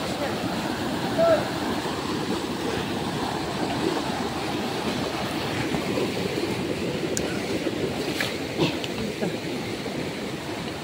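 Strong river current rushing steadily and close, a dense broadband wash of flowing water throughout, with voices talking faintly over it.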